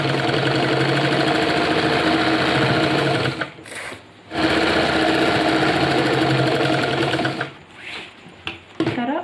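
A sewing machine runs loud and steady, joining two pant pieces, with a short pause midway and a stop-start stretch toward the end.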